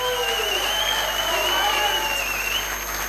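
Steady audience applause filling a hall after a call to honour a mentor, dense and continuous throughout, with a bright constant tone and a voice faintly present underneath.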